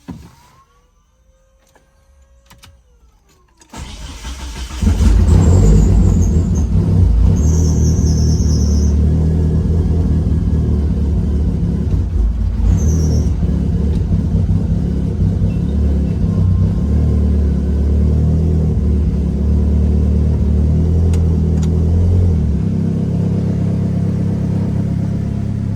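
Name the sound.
1997 Mitsubishi Eclipse GSX engine starting and idling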